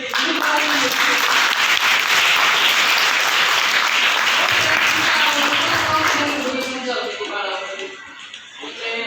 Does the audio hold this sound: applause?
yes